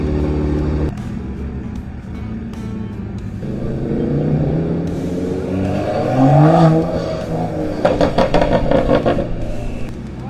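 Car engine at a car meet catches and revs with rising sweeps and a throaty rumble, growing louder toward the end with sharp bursts of throttle amid a busy, noisy background.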